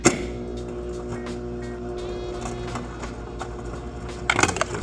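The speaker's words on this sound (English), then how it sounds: "Let's switch it to cubed ice." Frigidaire French door refrigerator dispensing cubed ice, a steady mechanical hum with cubes clattering and rattling down the chute, growing louder in a rough crash at the end.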